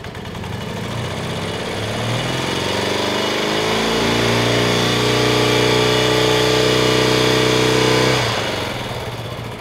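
BMW R75 motorcycle engine idling steadily after an electronic ignition install, a loud continuous mechanical thrum that holds for about eight seconds before cutting off.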